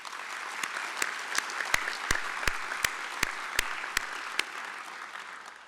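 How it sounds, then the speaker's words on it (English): Audience applause for an award recipient at a veterans' organization business session, steady clapping from a large crowd with a few sharp louder claps standing out, no talking over it. "with a round of applause"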